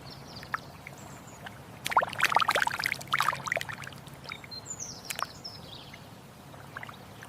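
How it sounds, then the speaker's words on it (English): An American coot runs across water among reeds, its feet slapping and splashing in a short burst of quick, close spray sounds over quiet outdoor ambience, then a few scattered splashes. "the coot sprints across the water, kicking up spray as it prepares for takeoff amidst the reeds"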